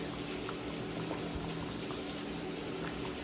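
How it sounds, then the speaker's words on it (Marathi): Fish curry gravy with tamarind simmering in a pot, a continuous close bubbling boil with small popping bursts, steady and even throughout, with no voices. "मस्त आपले रश्श्याला उकाला येत आहे."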